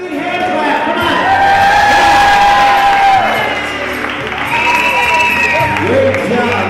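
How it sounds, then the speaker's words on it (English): A crowd at a wedding reception breaks into sustained applause and cheering, loud and dense, swelling for a few seconds and then easing off, with music and voices mixed in. "Big hand clap, come on."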